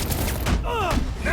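A gunner opening fire during combat in the video game Batman Arkham Origins, a dense burst of loud close gunshots with rumbling booms, followed by brief whooshing tonal game effects.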